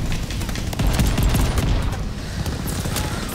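Shotgun firing in a first-person shooter game, a dense run of booming shots and crackling gunfire blending into a steady loud barrage with no clear gaps.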